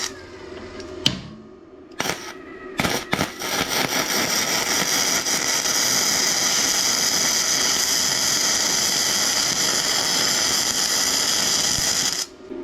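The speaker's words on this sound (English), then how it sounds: "if I start trying to weld this now" Flux core welding at close range, a steady loud crackling hiss that begins after a few brief clicks and pops and runs continuously for about ten seconds before cutting off abruptly.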